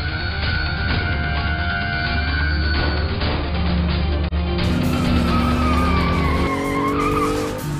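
A car races past at high speed with loud, sustained tire squeals and skidding over a roaring engine, the screech shifting in pitch as it goes.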